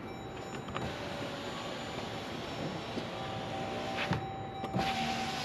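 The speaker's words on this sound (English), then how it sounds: "Roll this up and down a few times." On a 2021 Jeep Grand Cherokee with newly replaced door glass, the power window motor hums steadily as the glass travels up and down, with faint clunks at each end of travel.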